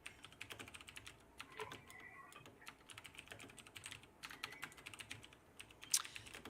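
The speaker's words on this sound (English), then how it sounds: "All I hear is typing." Faint bursts of rapid keystrokes on a computer keyboard, irregular clusters of clicks with short pauses, heard quietly on a live commentary stream with no talking.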